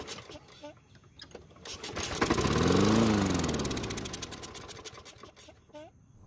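A Toro lawn mower engine, given away and under repair with fuel added to the carburetor, cranks and catches, then runs with a rising, steady drone that peaks and slowly fades, with rattles and clicks at the start and end.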